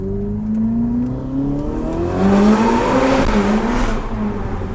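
A Ferrari SF90 Stradale hybrid with twin-turbo V8 revving and accelerating through a tunnel, its exhaust note rising in pitch across gear changes, loud and reverberant with no talking.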